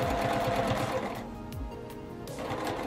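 Close, loud sewing machine stitching quilt binding on a curved corner, a fast rhythmic mechanical run that pauses briefly midway and then resumes.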